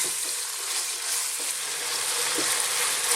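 Pieces of camel meat sear in an open, lidless pan over medium heat, giving a steady, close, broadband sizzle and crackle that holds constant for a few seconds with no voices.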